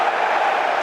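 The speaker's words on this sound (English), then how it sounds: "This crowd right now, they're at a fever pitch." Football stadium crowd at a Tampa Bay Buccaneers at Los Angeles Rams game, a dense, loud, sustained roar of cheering and shouting with no breaks, heard as an unbroken wall of noise.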